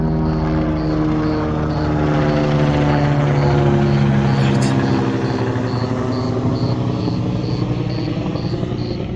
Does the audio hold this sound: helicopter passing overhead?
yes